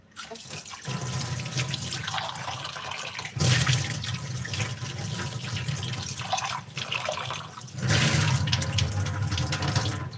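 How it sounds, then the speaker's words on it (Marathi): A new stone mortar and pestle scrubbed under a running tap, strong gushing water in long bursts with brief pauses between, close and fairly loud, with a voice speaking softly at times. "पूर्ण हे दगडातनं काळं पाणी जाईपर्यंत आपल्याला घासून घ्यायचं आहे खलबत्ता"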